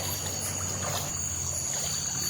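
Strongly flowing water at night at a campsite, a steady close rushing and gurgling with a constant high insect-like whine layered over it.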